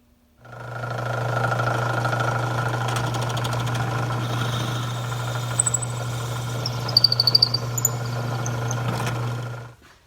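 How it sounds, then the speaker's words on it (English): A wood lathe bores a hole through a wood blank for a Christmas tree ornament, giving a steady, loud motor hum with a constant low drone and occasional brief higher scraping bursts as the bit cuts, running alone throughout. "There's how we bore the hole through the blank."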